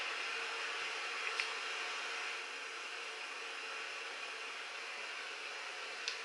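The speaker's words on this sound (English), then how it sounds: "I have white noise in the background of this house" A white noise machine running in the background of a house, a steady faint hiss filling the room evenly throughout, with a couple of tiny clicks and no voices.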